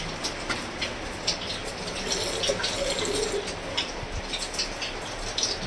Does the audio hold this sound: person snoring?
no